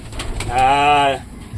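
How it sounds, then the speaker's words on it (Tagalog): A single drawn-out pigeon coo from a training loft, low and throaty, close by over faint background noise. "Narato mga kalapati"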